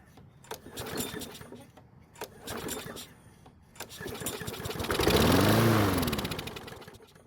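A small carburetted engine on a repair bench, just fixed after a fuel leak, is cranked with a few rattling pulls before catching and briefly running with a rising, steady hum near the end.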